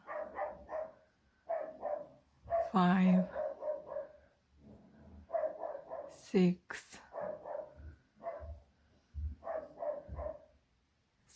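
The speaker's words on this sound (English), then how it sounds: "Sorry for the noise, it's the dog barking" A dog barks in bursts around the middle of the recording, loud and close, while a woman keeps counting crochet stitches aloud as she works on a Wayuu mochila bag.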